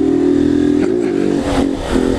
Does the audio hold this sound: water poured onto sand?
no